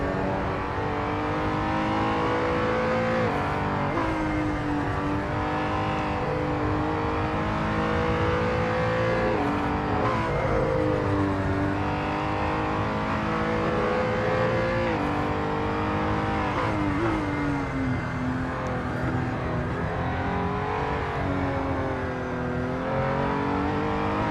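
A video game race car engine roars continuously at high revs, rising and falling in pitch with gear changes, loud and close.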